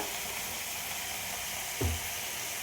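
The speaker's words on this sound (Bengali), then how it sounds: "এবার একটু ভেজে নেব। দেখো 3টে লঙ্কা" Three chillies fry with a little capsicum in a pan for spinach chorchori, giving a steady moderate sizzle and hiss throughout, with a brief low thump near the end.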